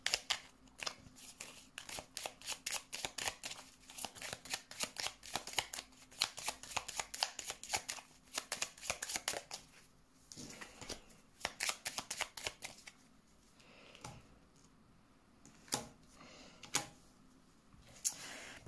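Tarot cards shuffled by hand in a quiet room, quick riffles and flicking snaps in busy bursts with short pauses, close and fairly soft, no talking.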